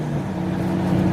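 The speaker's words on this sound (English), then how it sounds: "Look at that, I'm driving my truck." A Nissan Titan XD pickup truck drives along with a steady, fairly loud engine drone and low hum, no talk over it.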